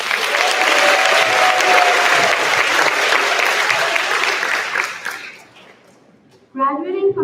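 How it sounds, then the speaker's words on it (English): A middle school graduation crowd applauds the class of 2025 for about five seconds with loud, dense clapping, then the clapping fades out and a voice begins speaking at the end. "let's give a round of applause to our amazing class of"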